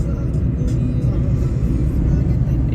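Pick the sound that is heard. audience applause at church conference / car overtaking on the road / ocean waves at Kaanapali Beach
car overtaking on the road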